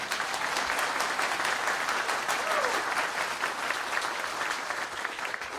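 A room of people clapping in unison at a coach's hiring press conference, a sustained, even patter of hands lasting several seconds, fairly close and steady, with a faint voice briefly audible.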